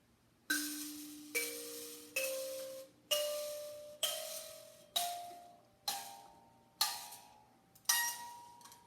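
Nine struck metal bar notes ring out one after another in an ascending sequence, each clear and bell-like with a short decaying ring, played alone.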